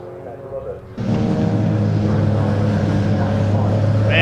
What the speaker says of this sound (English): Several cars now coming back out of the pit lane